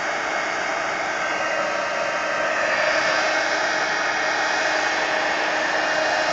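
A handheld dryer blows steadily over glued collage pieces in an altered book, a loud, unbroken close-up whoosh that holds evenly from start to finish.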